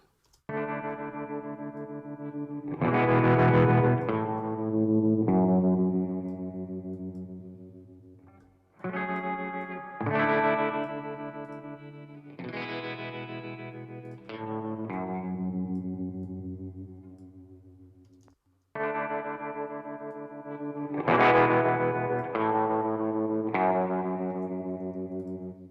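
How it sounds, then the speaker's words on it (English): Guitar chords run through the Fuse Audio Labs Diode Clipper distortion plugin, an emulation of a Big Muff pedal, in three loud, saturated phrases of sustained, fuzzy chords separated by brief pauses. "This particular one is an emulation of a Diode Clipper guitar pedal, which is essentially a Big Muff."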